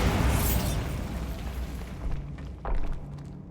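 A magical Bombarda blasting spell goes off in a video game, a loud rumbling explosion with dense debris noise that swells, decays, then hits a second thumping burst near the end.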